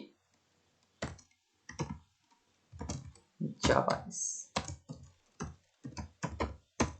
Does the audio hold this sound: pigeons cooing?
no